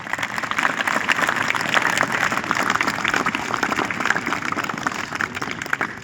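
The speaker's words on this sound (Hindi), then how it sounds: "उन बच्चों के लिए आप जोरदार तालियां बजाएं" Children clapping at a school program, a steady dense patter of many small hands sustained for about six seconds, fairly loud and continuous, with a faint voice or two underneath.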